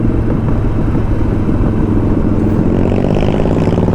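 A Harley motorcycle engine revs steadily as the rider prepares to overtake, a loud continuous throbbing drone close by that holds evenly throughout with no voices.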